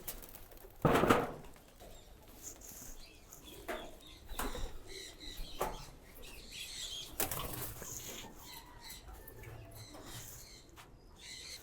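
Pigeon chicks flap their wings in several sudden bursts, one loud and close, others softer, with faint cooing in between.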